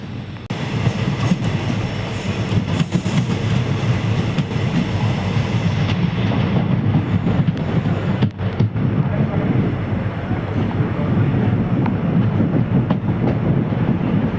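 A diesel-hauled passenger train runs on the Mayiladuthurai–Karaikudi line in Tamil Nadu, heard from on board as a steady loud rumble with rhythmic wheel clatter and rail noise, continuous throughout with no voices heard.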